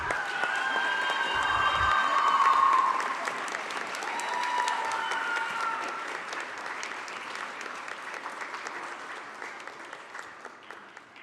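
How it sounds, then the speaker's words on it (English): Audience applause for students at an IB celebration: sustained crowd clapping with some cheering, strongest early and then gradually thinning and fading over several seconds. "Let's please give these students one more round of applause."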